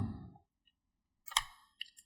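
A computer mouse clicks during video editing in Premiere: after a brief unrelated noise, a quiet pause gives way to three close, sharp clicks in quick succession.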